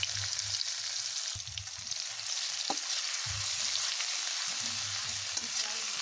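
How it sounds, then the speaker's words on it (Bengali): Two chopped medium onions fry in oil in a wok, a steady close hiss and crackle that runs throughout, with soft low stirring knocks beneath. "এরপরে আমি কড়াইতে তেল দিয়ে তাতে পেঁয়াজ দিয়ে দিলাম।"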